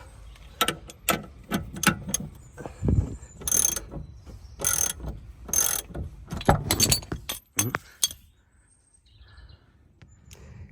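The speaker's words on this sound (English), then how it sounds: "So basically I just keep tightening and then it should just pop it off" A hand tool on a car's suspension arm, a C180K being repaired for its MOT, gives bursts of ratcheting and mechanical clicking as it is tightened, in uneven loud spurts that go quiet near the end.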